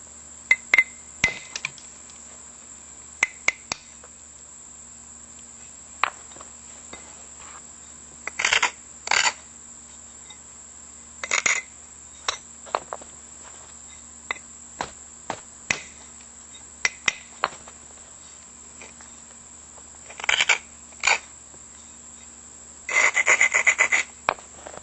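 Sharp, glassy clinks and taps from knapping a Caddo-style stone blade, with small flakes coming off. The strikes come in irregular, scattered bursts throughout, some single and some clustered, over a faint steady background hum.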